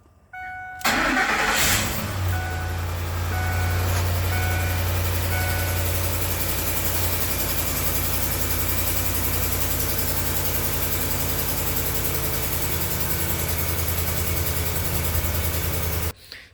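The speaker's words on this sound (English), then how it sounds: "there is definitely a noise while this thing is running, especially on a cold start." A Ford F-150 with a noisy rocker assembly cold-starts with a sudden crank and catch, then settles into a loud, steady idle that runs on without a break until it cuts off at the end.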